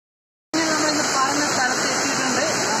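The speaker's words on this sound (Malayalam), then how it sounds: "നമ്മുടെ വെള്ളത്തിൻ്റെ ഒക്കെ സൗണ്ട് കേട്ട് തുടങ്ങിയിട്ടുണ്ട്" Roaring rush of water at the foot of Narathumkolli waterfall in Kasaragod, Kerala, a loud, steady broadband wash that cuts in abruptly after a brief silence and holds constant.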